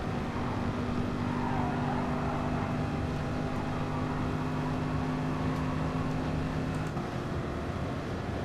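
Race car engines drone steadily at Monza in GT Sport, a continuous high-revving hum with faint shifts in pitch and no clear talking over it.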